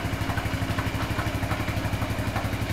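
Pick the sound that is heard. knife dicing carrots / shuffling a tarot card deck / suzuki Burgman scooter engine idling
suzuki Burgman scooter engine idling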